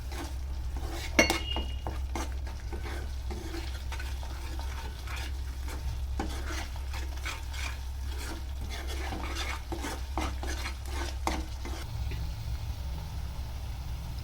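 Spices being stirred into moong dal in a pan: a steady low sizzle of oil and frying under soft, repeated clinks and scrapes of a spoon against the pan, close by with no talking.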